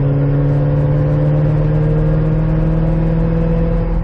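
A 2005 Chevrolet Corvette engine with a rough idle drones steadily in 5th gear at about 65 mph, a loud continuous hum with a faint rising whir and no voices.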